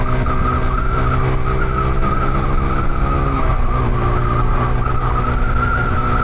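A car drives fast along a bending road while overtaking, its engine droning loud and continuous with tire and road noise throughout.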